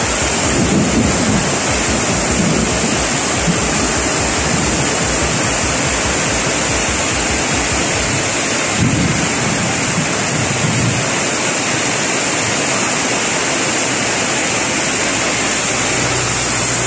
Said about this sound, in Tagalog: napakalakas na ng ulan dito sa Burgos